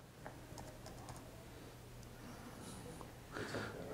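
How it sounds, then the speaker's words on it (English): Computer keyboard keys typed in a short burst of soft, faint clicks and taps in a quiet room, with light background noise and a little shuffling near the end. "You just click inside it and type internet."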